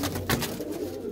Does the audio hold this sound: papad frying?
no